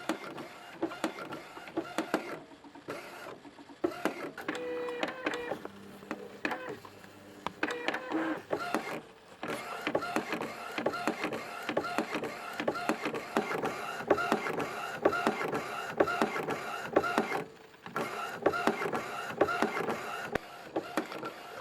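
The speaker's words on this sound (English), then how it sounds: "So you can see it's printing." An inkjet printer runs slowly on a multi-sheet large print, giving a steady stream of mechanical whirring, clicking and shuttling for the whole stretch, close and moderately loud, with brief pauses between passes.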